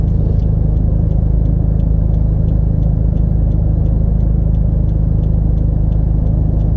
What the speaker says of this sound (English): We're going to be driving Las Vegas Boulevard through Tropicana Avenue, through Flamingo Avenue